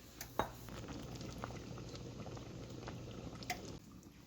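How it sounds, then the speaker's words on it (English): A pot of callaloo with yam, banana and dumplings simmers on the stove with a steady bubbling hiss, broken by a couple of sharp utensil clinks near the start and end. "now I'm going to leave that there to cook for about half an hour, maybe more"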